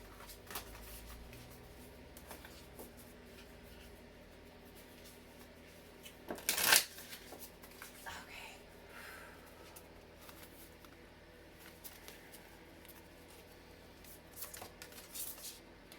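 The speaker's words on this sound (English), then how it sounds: "Oh my gosh, I just dropped a bunch of cards." A handful of dropped playing cards is scooped up and gathered together, with faint papery rustling and one brief, louder flutter midway through an otherwise quiet stretch.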